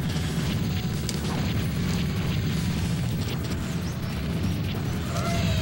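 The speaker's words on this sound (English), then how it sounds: "Unleashing the booms." Bombs go off in the Cannon Spike video game, a dense string of heavy booms and crashes with clanking mechanical hits over a steady rumbling background.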